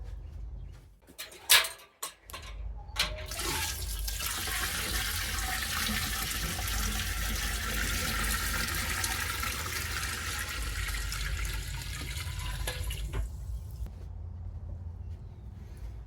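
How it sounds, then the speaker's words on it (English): Spring water is poured into an apple brandy mash in a steady, close, continuous stream for about ten seconds. A few knocks and handling sounds come before the pour, which then stops abruptly. "we're going to top it up with the rest of the spring water."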